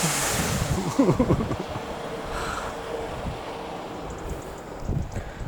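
Sea waves wash onto the shore at Crosby beach in a steady, rushing roar, with gusts of wind buffeting the microphone and a few louder surges breaking through.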